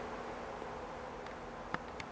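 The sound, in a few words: leafcutter bees buzzing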